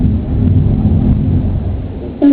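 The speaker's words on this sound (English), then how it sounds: "And then, oh my goodness, it's storming outside, thunder." Thunder effect on a Barton theatre organ: a loud, dense low rumble rolling steadily for about two seconds, ending in a brief brighter tone, with no voices.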